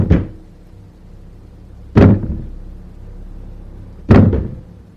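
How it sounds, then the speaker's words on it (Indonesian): A wooden door takes three heavy, booming impacts about two seconds apart, each a hard thud that rings briefly before fading, close and loud with no talking. "Pintu tajuk ditendang dengan keras."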